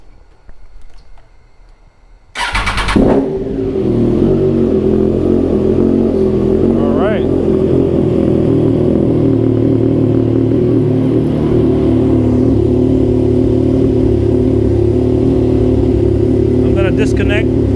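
Triumph Trident 660 motorcycle engine cranking and catching after a quiet moment, then settling into a loud, steady idle close by with a few light blips of revving.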